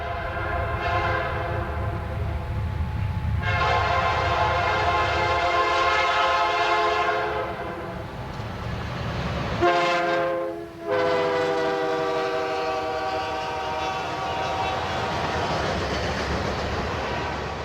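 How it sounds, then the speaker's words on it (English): Norfolk Southern southbound Manifest 169 rolls through Central, South Carolina, sounding its horn in several long blasts over the steady rumble of the passing diesel train. "Ed's first train at Central happened to be southbound Manifest 169"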